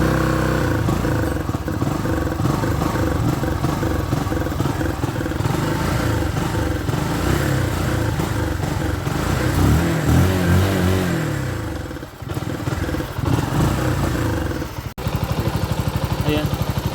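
A 2020 Kawasaki Rouser NS125 motorcycle engine runs close up with a rough, uneven idle that misfires, with a clattery throb that wavers and dips, while people talk over it.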